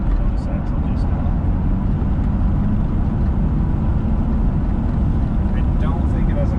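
A 1973 Corvette convertible with a 454 engine rumbles steadily while driving, giving a continuous deep, loud drone with road and wind noise and no break throughout.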